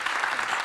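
Audience applause fills a fireside-chat panel hall on DAO financial management, a dense, steady wash of many hands clapping close and loud for under a second with no voices over it.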